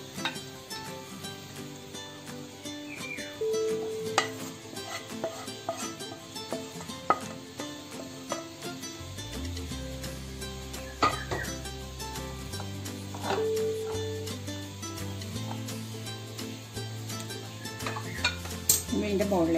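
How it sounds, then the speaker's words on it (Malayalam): Sauced chicken fry being moved from the pan into a dish, with a steady run of metal spoon scrapes, clinks and taps against cookware at close range and no clear talking. "ഇനി നമുക്ക് ഇത് ഒരു പാത്രത്തിലേക്ക് മാറ്റാം."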